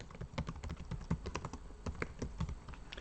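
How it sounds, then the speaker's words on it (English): Fingers type on a computer keyboard in quick, irregular bursts of close, crisp key clicks, with no voices. "I'm going to type it in here"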